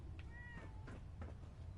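A cat in the Fallout 4 video game meows once with a rising, drawn-out cry, faint against a low steady background hum.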